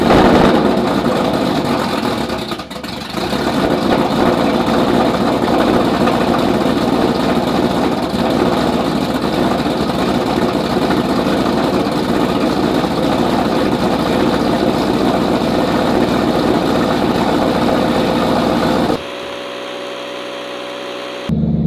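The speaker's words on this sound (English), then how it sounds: "I'll go ahead and get a startup of the car" A tuned car with failing fuel pumps idles after startup, its engine holding a loud, steady, even rumble for about twenty seconds before the sound drops away near the end.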